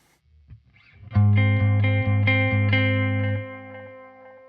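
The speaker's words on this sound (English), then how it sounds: "Let's go ahead and switch it to the tape echo." A few quiet notes lead into a loud, distorted guitar chord through a Joyo Aquarius delay pedal on its tape echo setting, with subtle repeats that ring out and fade.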